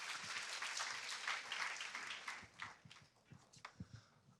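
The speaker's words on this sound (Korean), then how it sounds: "박수 부탁드립니다." An audience applauds, a dense wash of clapping that thins out into a few scattered, separate claps near the end.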